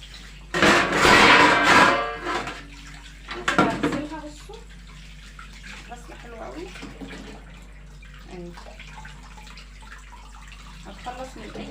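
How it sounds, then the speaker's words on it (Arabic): Tap water runs in bursts over food being washed in a sink, a loud splashing rush early on followed by a second shorter gush, then quieter trickling and handling sounds. "فلازم تتغسل غسله كويسه."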